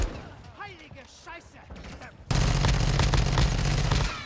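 Gunfire and an explosion from the video game Call of Duty Modern Warfare II burst in loud and dense halfway through, following a stretch of excited talk, with rapid shots and booms continuing to the end.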